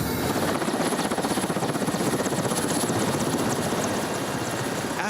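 A steady, loud, rhythmically pulsing engine roar from Russian military aircraft in Syria, a continuous dense wash of noise that runs unbroken throughout.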